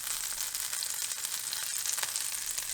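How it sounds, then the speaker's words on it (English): Blueberry pancake batter sizzling and frying in butter in a skillet, a steady close crackling hiss that carries on evenly without a break. "It's time to cook our pancakes in butter, of course."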